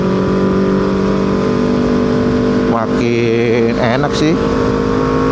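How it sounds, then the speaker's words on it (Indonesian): A Kawasaki Z250 with an aftermarket exhaust and remapped ECU idles with a steady low burble, then blips its throttle in a couple of quick revs midway, while someone talks close by. "Cuma ini kayaknya agak berisik ya knalpotnya buat gua sih."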